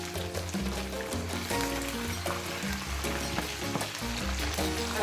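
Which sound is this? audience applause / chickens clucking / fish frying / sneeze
fish frying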